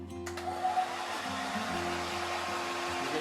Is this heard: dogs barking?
no